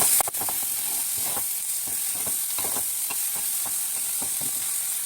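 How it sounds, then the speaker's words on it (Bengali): Salted hilsa fish and onions fry in a hot pan, giving a constant bright sizzle with repeated soft scrapes and taps of a spatula stirring, close and steady, with no talking. "পেঁয়াজের সঙ্গে নোনা মাছটা একটু ভেজে মশলাগুলো দিব।"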